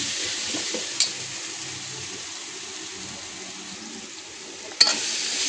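Onion and tomato fry in a pan with a steady, even sizzle, and two sharp utensil knocks against the pan cut through it.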